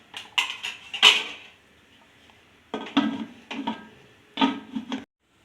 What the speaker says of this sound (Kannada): ನೋಡಿ, ಕಲಿಸ್ಬಿಟ್ಟು ಕುಕ್ಕರ್ ಮುಚ್ತಾ ಇದ್ದೀನಿ